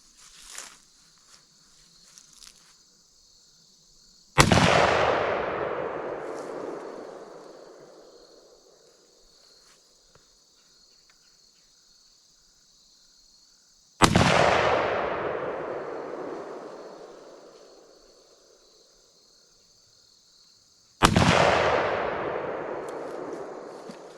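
A deer rifle fires a three-shot group at a 35-yard range: three loud, sharp cracks spaced several seconds apart, each ringing out in a long fading tail, with small clicks and shuffles before the first shot.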